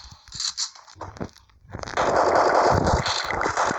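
Gunfire crackles from a game, a few sharp shots early on and then a sustained loud burst of rapid firing and noise.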